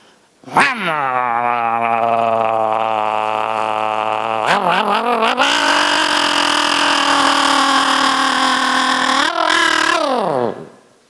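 A man imitates a chainsaw with his voice in one continuous buzzing drone that rises sharply partway through, as if revving, holds a high strained whine, and then drops away at the end.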